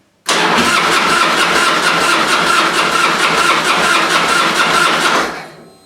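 A Harley-Davidson Softail engine cranks over steadily with the ignition off during an oil-change purge, a loud, even, rapid churning of the starter that runs for about five seconds and then winds down, with no voices.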